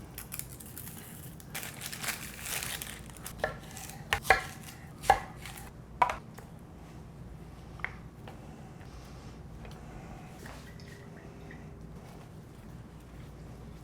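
A knife chops an onion on a cutting board in a home kitchen, with irregular sharp taps and a few louder thumps over soft background hiss, no talking.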